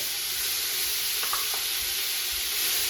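A steady, loud sizzle of ground garlic, ginger and onion paste frying in hot oil for chicken curry, a continuous hiss with a few faint clinks partway through.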